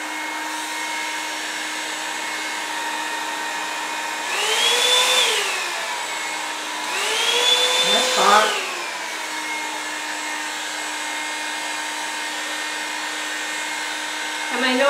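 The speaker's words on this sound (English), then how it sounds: "Let's try some heat gun on it." A heat gun blows hot air onto a traffic cone orchid pot given a dirty pour paint finish, a steady motor hum underneath with louder airflow swells around five and eight seconds and brief voices nearby.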